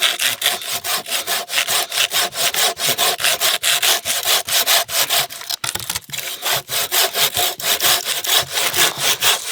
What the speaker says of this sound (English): cutting through a log this thick in about a minute is pretty darn good